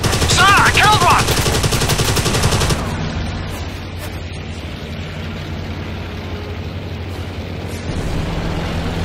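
Sustained rapid machine-gun fire from a World War II aircraft in Dogfight 1942 rattles loudly and continuously for a few seconds, then gives way to a steady, lower engine roar.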